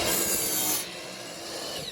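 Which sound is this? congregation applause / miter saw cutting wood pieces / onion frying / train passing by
miter saw cutting wood pieces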